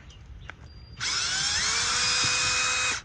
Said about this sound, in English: What I'm going to do now is get these screws out. Just use my drill here.